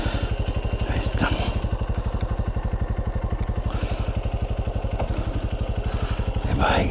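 A motorcycle engine runs close by at a steady, rapid idle, with regular thudding pulses throughout and a slight rise in revs at the end, out at night.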